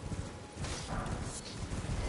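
Horse hooves while riding in the video game Elden Ring, a steady quiet clip-clop trot with soft, even footfalls throughout.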